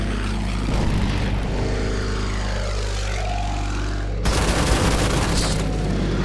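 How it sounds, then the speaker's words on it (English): Bombardment explosions in the WW2 strategy game Order of Battle, a heavy sustained rumble with engine-like drone and a fresh loud burst partway through. "let's start with some bombardments on them"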